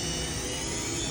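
A 2008 Hurco VM-1 CNC vertical machining center spindle running at 4,000 RPM gives a steady, dense whirring roar, loud and unbroken, with no voices.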